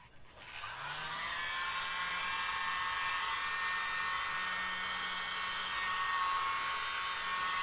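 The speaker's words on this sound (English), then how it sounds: "Let's try our little blower first, just to move it around." A small electric blower starts up and runs steadily close by as a continuous whirring hiss for several seconds, with no talking.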